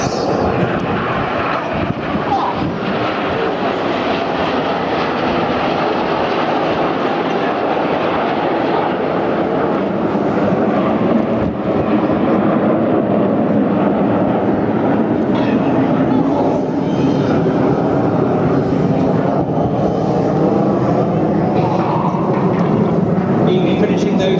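Red Arrows stunt jets fly over an air show at Clacton-on-Sea, Essex, producing a loud, continuous engine roar that swells and rumbles throughout while an announcer's commentary carries underneath.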